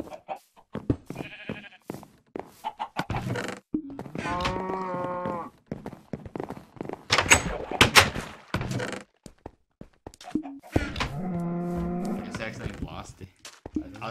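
Cattle mooing in the Minecraft video game, several drawn-out harmonic moos spread across the scene, interspersed with clicks and game sounds.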